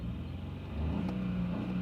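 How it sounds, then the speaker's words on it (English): A 2016 BMW 318i F30 engine idles roughly with a cylinder 3 misfire, running on three cylinders, giving a steady low uneven drone that lifts slightly in level partway through, close and alone. "we're misfiring at the moment"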